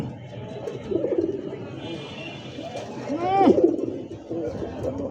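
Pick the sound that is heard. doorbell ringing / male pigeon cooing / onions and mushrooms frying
male pigeon cooing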